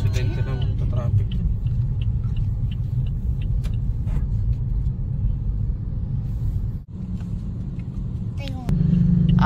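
Steady low road traffic rumble from passing cars on a barricaded, bumpy street, loud and continuous throughout, with people talking over it and a brief dip near the end.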